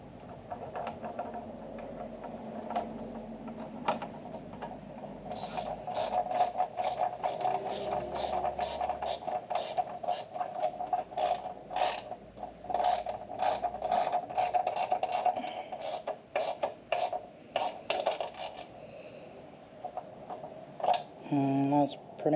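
A socket wrench tightens the 10 mm axle slider bolts on a 2024 Yamaha MT03. Its ratchet clicks come in a rapid steady run for about twelve seconds, then a few sparser clicks and a short metallic clatter at the end.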